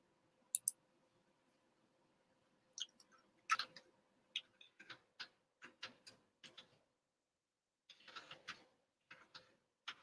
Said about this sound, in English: I'm going to type it in at the same time as you.